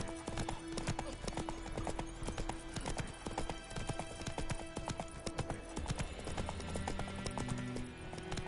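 Geralt's horse Roach trots along in The Witcher 3, steady rapid hoof clip-clops on hard ground close by with an occasional faint snort, a voice briefly heard over the hoofbeats.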